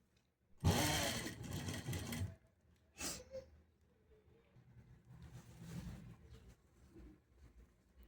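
A sewing machine runs in a burst of stitching while piping is sewn onto a blouse, followed by a short click and softer, quieter machine noise later.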